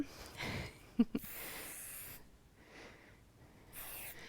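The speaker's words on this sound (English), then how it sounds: "adding in spray as you're working, again, will add a bit of texture and hold" Several short hissing bursts from a hairspray can, each a quick spray, separated by quiet pauses with faint handling noise.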